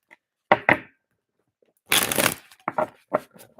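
Tarot cards being shuffled by hand: two quick riffling snaps, then a longer dense burst of card flutter followed by several short crisp slaps, close and fairly loud with no talking.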